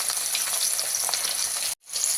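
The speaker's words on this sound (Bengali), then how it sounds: "মাছটা খুব বেশি কড়া করে ভাজবো না, হালকা ভাজবো।" Fish fries lightly in hot oil with a continuous close sizzle and crackle, which cuts out abruptly for a moment near the end before resuming.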